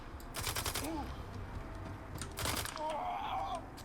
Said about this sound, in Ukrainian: Ану, давайте постріляємось.